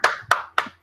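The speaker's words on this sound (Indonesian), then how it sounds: "Yuk, baru tepuk tangan yuk." Three sharp hand claps in an Indonesian classroom session, evenly spaced about a quarter second apart, close and fairly loud with a quick decay after each.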